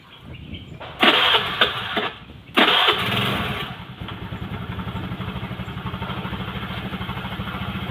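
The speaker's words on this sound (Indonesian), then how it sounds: "sementara motor hidup gampang" A Honda Vario scooter engine cranks in a couple of loud bursts, then catches and settles into a steady, even idle that runs on close by.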